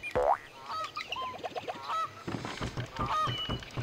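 A bird in the video game Rayman 3 cackles and honks in quick, goose-like bursts, with several squawks in a row close up.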